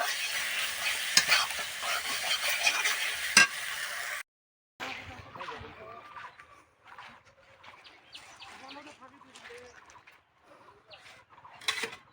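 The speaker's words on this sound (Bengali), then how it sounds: "এবার এর মধ্যে একটু হলুদ গুঁড়ো দিয়ে দিচ্ছি এইভাবে ভালো করে নেড়ে চেড়ে" Spoonful of turmeric powder stirred into food frying in a pan, a dense hiss of sizzling for about four seconds that cuts off abruptly, followed by quieter, scattered background sounds.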